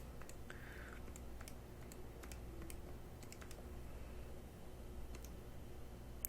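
Keys tap lightly on a calculator or computer keyboard in quick, irregular clicks, close and soft over a low steady room hum, with no voice.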